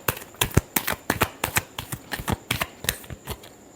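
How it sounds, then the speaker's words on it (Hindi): Tarot cards being shuffled by hand, a quick run of crisp riffling snaps and flicks in an irregular rhythm, close and fairly soft, with no talking. "Last shuffle."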